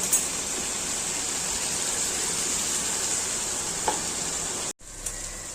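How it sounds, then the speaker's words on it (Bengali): Spice paste sautés in a pan for a fish curry with potatoes, giving a continuous loud sizzle and hiss with a soft stirring scrape, then cutting briefly before resuming. "মশলাটা কষানো হচ্ছে"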